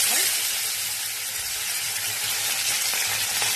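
Tomatoes added to hot oil in a wok, where fish had just been fried, give a steady loud sizzle and crackle throughout with no voice over it.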